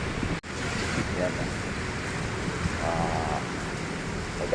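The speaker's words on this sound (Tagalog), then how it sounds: "Kaya nabutan tayo ng malakas ang pagbagsak ng ulan." Heavy rain falls together with strong wind in a steady, dense roar with gusty rumbling, close and loud throughout, with faint voices now and then under the downpour.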